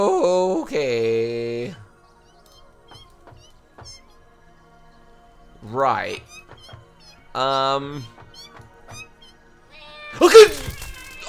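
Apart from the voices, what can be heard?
cat meowing in video game Satisfactory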